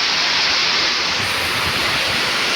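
Heavy rain pours steadily and water runs off a roof edge in a dense, continuous hiss, loud and close with no break.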